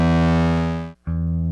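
A sustained, heavily distorted instrument tone rings out, cuts off briefly, then returns with the same gritty, harmonically rich sound.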